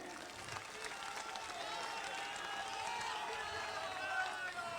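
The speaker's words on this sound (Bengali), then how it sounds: "তাই সবাই জোরে একবার হাততালি দিন" Crowd applause at a BJP political rally in Haripal, Hooghly, a steady wash of clapping from a large audience lasting the whole moment, with some voices mixed in.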